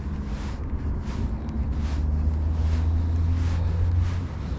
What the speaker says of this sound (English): That wind's bitter.